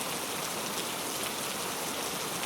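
Rain falling in an animated village cartoon, a soft, even hiss of steady downpour that holds at a constant, moderate level with no voices.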